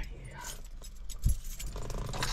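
Keys jingle and clink briefly as someone gets into a truck outdoors, a single metallic rattle standing out amid background noise and a nearby voice.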